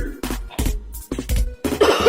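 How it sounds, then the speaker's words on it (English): A person coughing several times in short, loud bursts separated by brief pauses, with a harsher, throaty burst at the end. "I have a cough."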